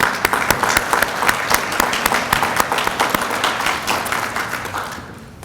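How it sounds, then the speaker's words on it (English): Sustained audience applause for an honor society award recipient, many hands clapping in a dense, steady wash that fills the room before tapering off at the end. "we'd like to give her a great round of applause for that"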